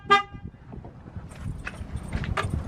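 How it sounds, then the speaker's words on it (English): A single short, loud car horn honk sounds at the very start, then fades into low background rustling and faint movement noises. "Horn honking and all that."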